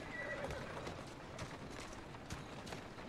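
A horse in the video game Assassin's Creed Syndicate whinnies near the start, followed by a few soft hoof clops over a low, steady background rumble.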